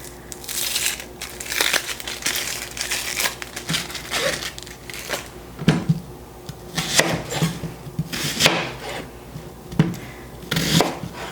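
Outer papery skin being peeled off an onion, a run of dry crinkling and crackling bursts in irregular close-up handling, moderately loud with no talking.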